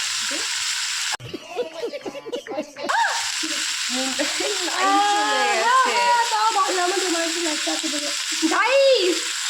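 Spicy homemade pasta sizzles in a pan as it is stirred, a steady hiss running beneath people talking for most of the stretch.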